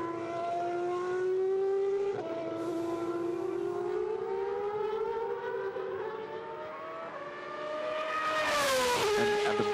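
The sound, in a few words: Superleague Formula race cars on warm-up laps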